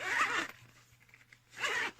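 A zipper on the case of a KLIM Nomad portable CD player, two quick close zipping strokes separated by a short quiet pause.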